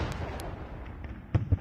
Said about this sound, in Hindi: तो ये तोपों की आवाजें